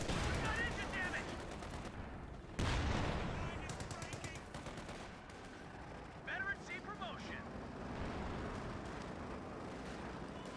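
Dense bursts of light machine gun fire and grenade blasts in a Company of Heroes 2 battle involving a Panzer IV, rattling and booming continuously under fast, excited commentary.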